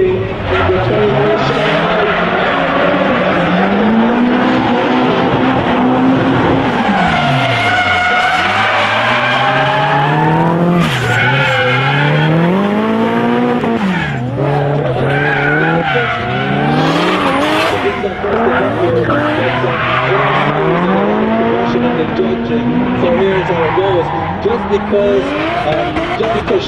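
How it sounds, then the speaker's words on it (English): Drift race cars in a DMCC West Top 16 battle scream toward a pylon, engines revving and falling in long sweeps with squealing tires, loud and continuous under constant commentary. "It's a drag race to the pylon."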